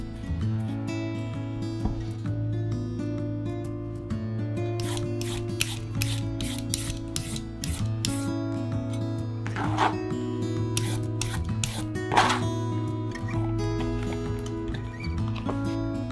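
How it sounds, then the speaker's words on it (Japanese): A knife julienning half a carrot on a cutting board gives bursts of quick, crisp tapping strokes over a steady low hum, sometimes dense and rapid, with a few sharper cuts standing out. "人参1/2本を千切りします。"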